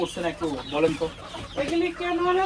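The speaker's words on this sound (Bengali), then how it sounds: "তার মানে এখানে দশটা মিশরি মুরগি আছে আর বাকিগুলো সবগুলো ওনার নিজের ঘরের পালের মরক" Clucking from a mixed flock of desi and Egyptian hens on a poultry farm, steady overlapping calls close by, some longer drawn-out notes, no speech.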